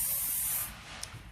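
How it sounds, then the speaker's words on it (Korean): Hairspray misted onto a finished updo hairstyle, a close, bright hissing spray lasting about half a second before cutting off, followed by faint room noise. "스프레이 뿌리고"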